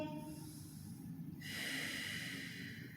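A slow, deep inhalation through the nose during a yoga Pilates flow, close and fairly soft, with a steady airy hiss and no talking.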